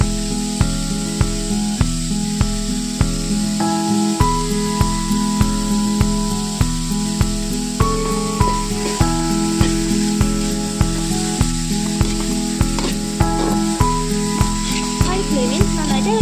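Vegetables for egg noodles sizzle in a hot pan while being stirred, a steady close frying hiss broken by regular clanking strokes of the spatula throughout.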